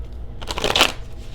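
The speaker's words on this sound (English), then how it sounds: "shuffling and pulling random cards" Tarot cards are shuffled by hand in one quick riffling burst, close and clear, with no talking.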